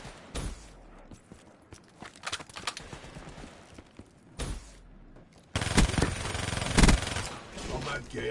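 Rapid gunfire from a Vesper submachine gun in a shooter game crackles in several short bursts, with a louder, sustained stream toward the end, mixed with footsteps and voices talking throughout.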